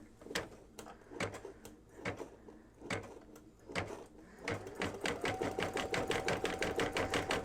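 Embroidery machine sewing a candlewicking stitch, its needle knocking in a regular mechanical rhythm with short pauses that becomes quicker and steadier, moderately close and fairly quiet.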